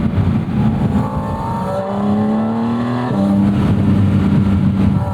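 A Porsche 718 Spyder RS engine revs from a close, in-car perspective, a loud sustained drone climbing in pitch through the gears with a brief dip at a shift.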